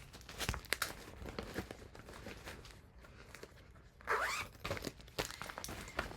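Nylon snagging inside a bag is handled and cut away, giving close crinkling, rustling and tearing-like scrapes throughout, with a louder crackling burst partway through.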